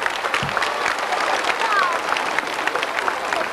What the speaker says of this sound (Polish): Brawa dla Pana Prezesa jeszcze.